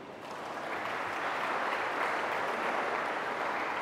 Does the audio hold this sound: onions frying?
no